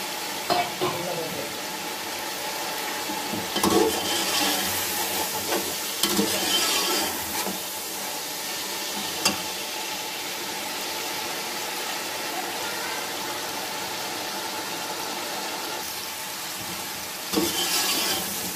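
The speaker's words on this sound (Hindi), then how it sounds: "हमारा चिकन माशाल्लाह ज़बरदस्त फ्राई हो गया है।" Chicken for murgh pulao sizzles steadily in a pan, a constant hissing fry with occasional stirring clatters and scrapes, close and alone without talk.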